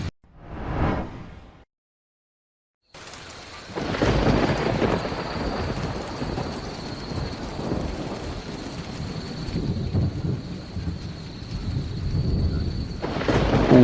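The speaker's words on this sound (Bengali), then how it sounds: "বৃষ্টি আর থামতেই চাইছে না মেঘ যেন ফুটো হয়ে গেছে" Cartoon thunderstorm with heavy rain: a short rumble, a brief silence, then a loud rolling thunderclap followed by a steady, dense downpour with further distant rumbles.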